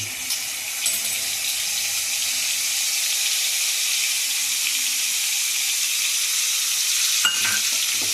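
Spice paste is stirred in a frying pan over a low flame, giving a steady hiss of sizzling with a couple of brief scraping knocks, near and without any talking.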